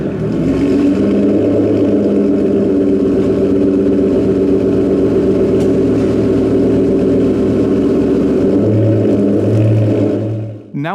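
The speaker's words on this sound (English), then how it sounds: "On either side, we find the car's new quad exit titanium sports exhaust." A 2019 Aston Martin Vantage V600 with a quad-exit titanium sports exhaust rumbles loud and steady at close range, holding revs for several seconds before a deeper surge near the end, then cutting off abruptly.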